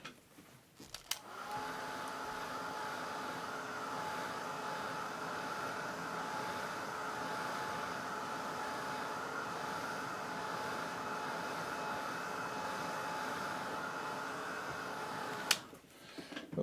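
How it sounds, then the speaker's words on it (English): A blow dryer drying a watercolor painting of cloudy skies, switched on after a short click and holding a loud, steady whirring roar for about fourteen seconds before cutting off. "I'm going to take the blow dryer here."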